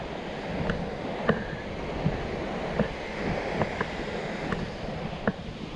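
Sea waves wash steadily at a small beach in Pamplona, General Nakar, Quezon, a broad continuous roar with wind rumble and faint intermittent clicks, no voices.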